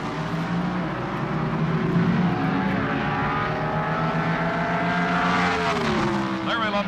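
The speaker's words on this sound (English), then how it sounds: "Here comes Rivera into the staging beams. Together they leave the starting line." Two 1978 NHRA Pro Stock drag cars roar off the starting line together at the Gatornationals, with loud, sustained engine noise as their revs climb and shift under a crowd and announcer's voice.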